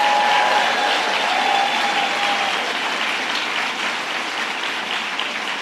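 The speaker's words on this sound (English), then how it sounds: "Let's give a big round of applause to our Attorney General" A rally crowd gathered for a health care event applauds the Attorney General in loud, sustained clapping that fills the space and slowly eases in volume, with a few faint cheers near the start.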